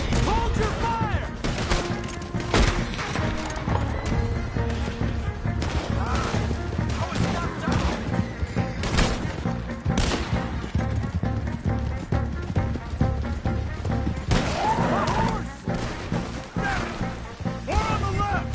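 Dense gunfire from a Red Dead Redemption 2 battle, with rapid overlapping shots and volleys crackling continuously over a loud, busy mix of shouting voices and game sound.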